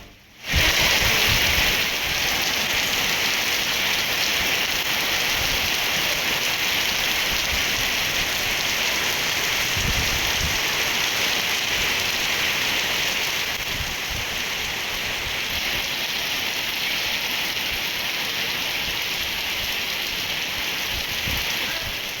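Heavy, unrelenting rain in Hyderabad pours down as a loud, dense and continuous hiss of drops on surfaces, holding steady throughout without pause.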